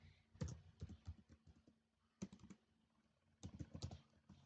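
Computer keyboard typing of a code comment comes in three short bursts of quick, crisp key clicks, separated by brief pauses, close but quiet, with no talking.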